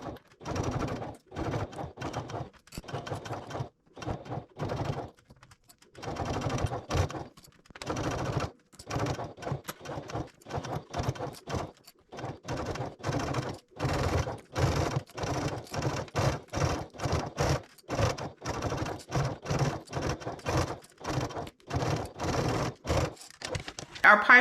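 A sewing machine bastes piping with cording onto the exterior panel of a backpack at a 3/8 inch seam, running in short repeated bursts of stitching separated by brief pauses throughout.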